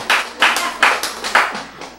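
Several sharp hand claps, about five close, loud strikes at an uneven pace, with no voices over them.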